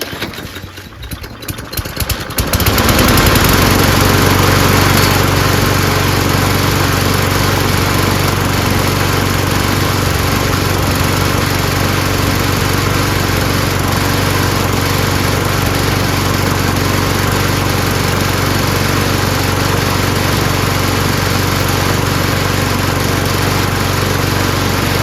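A Snapper Hi Vac lawnmower engine sputters briefly, then catches and runs at a loud, steady high idle close by, with a constant droning tone and no talk.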